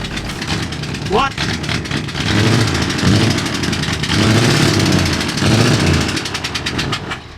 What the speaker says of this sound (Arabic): حاسس كأن في موتور اتكسر أو حاجة زي كده